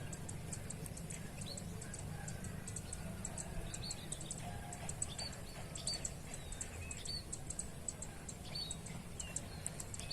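Small birds chirp and tweet in the distance, light repeated calls over a steady low outdoor rumble.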